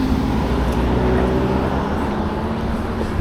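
Kaabo Warrior X Plus dual-motor electric scooter in first gear pulling away outdoors, a steady broadband rush of wind and road noise with a faint motor whine, loud and continuous throughout.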